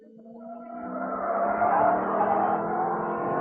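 An Aston Martin Vantage with 550 horsepower and a weight of nearly two tons accelerates, its engine note swelling from a low hum into a loud, sustained roar that builds steadily over a few seconds.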